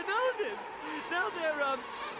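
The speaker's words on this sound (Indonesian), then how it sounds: "tiba-tiba seekor nyamuk menghinggapi Prickly" A mosquito buzzes in an animated film scene at a campsite, a thin, wavering whine that rises and falls as it circles close, fairly faint and alone.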